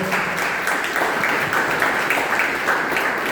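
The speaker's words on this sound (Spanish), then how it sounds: "Bríndale un fuerte aplauso al Señor Jesucristo." A church congregation at an evangelistic fasting service applauds loudly. Dense, steady clapping runs for the whole stretch with no pause and almost no voices.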